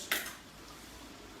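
Tinned tomatoes are tipped into a pan for lentil curry: a brief close metallic clatter and splash up front, then a quiet low bubbling background.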